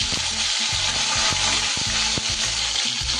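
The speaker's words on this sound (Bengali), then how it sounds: "এবার আমি ফুলকপিগুলো ভেজে নেব।" Cauliflower florets frying in hot oil in a pan, a loud steady crackling sizzle with intermittent scraping and knocking as the pieces are turned, close and without talking.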